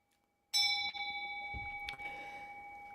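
A single clear strike on a temple bell at a Buddhist sutra lecture, ringing out with a sharp attack and a long sustained metallic hum that fades slowly, with nothing else heard.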